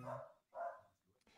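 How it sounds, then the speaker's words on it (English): A dog barks twice in fairly quick succession, low and muffled as if from another room, followed by a faint shorter yip at the end. "She starts barking randomly out of the blue."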